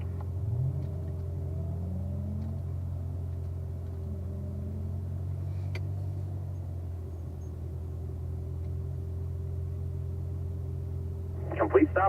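A Corvette on a braking exercise run at an owners' school, a steady low engine rumble heard from inside the car, with a person speaking over it and a brief burst of sharper noise at the end.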